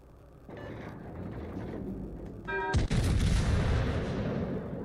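Warship guns fire in a naval battle in World of Warships: Legends, building from a low rumble to a loud, booming salvo that rolls on as a sustained blast-heavy roar.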